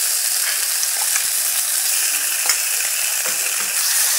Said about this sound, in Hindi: एक से दो मिनट इसे भून लेना है।